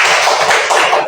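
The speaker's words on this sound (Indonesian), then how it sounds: "Kasih tepuk tangan dulu." Classroom students clapping their hands together, a loud, close burst of quick, dense claps lasting about a second.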